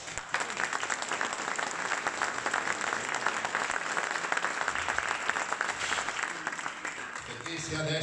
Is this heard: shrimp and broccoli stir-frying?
no